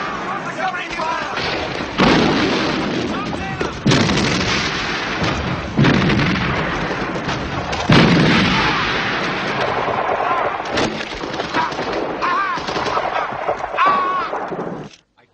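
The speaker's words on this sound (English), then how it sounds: "Covering fire!" Heavy covering fire from rifles, machine guns and artillery in a World War II battle scene, repeated booming thuds and crackling shots in dense overlapping bursts, loud and close, with shouting voices mixed in.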